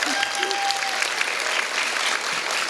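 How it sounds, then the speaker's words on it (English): Audience applause at a youth health awards ceremony, a steady dense clatter of many hands clapping together, sustained and fairly loud throughout with faint crowd murmur underneath. "round of applause"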